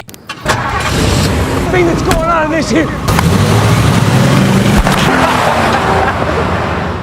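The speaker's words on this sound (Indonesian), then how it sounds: "Richie dan Kelly langsung tancap gas menuju pusat kota" A car engine cranks and catches, then revs and pulls away as the vehicle drives off, loud and close, with clunks and other noises mixed in.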